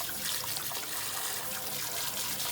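Tap water runs steadily into a container to fill it for soaking cleaning netting. The hissing, splashing stream is continuous and close, with no talk.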